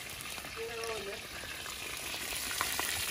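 Fish fries over a campfire outdoors with a steady crackling sizzle, close and continuous, while a voice murmurs briefly near the start.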